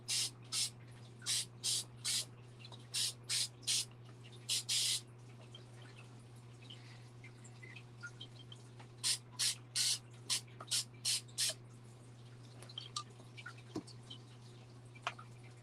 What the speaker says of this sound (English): we're going to get our tweezers and spray this